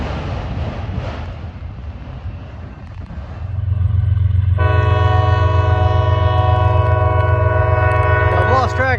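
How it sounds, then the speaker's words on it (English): A southbound freight train on the C&O line in Fostoria, Ohio rumbles closer, then its multi-tone air horn blasts loud and sustained over the heavy rolling rail noise. "this is another directionally southbound train coming off the C&O"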